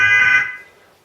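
A single short blast of a looped truck horn recording played through a small speaker on an RC function unit, buzzy and tinny, loud and close before quickly fading out.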